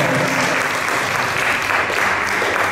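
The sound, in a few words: congregation applauding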